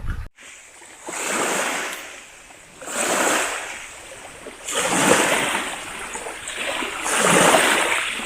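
Waves from Flagstaff Lake wash onto a rocky beach in slow, regular surges, each swell of water rising and falling about every two seconds, close by and steady with no voices.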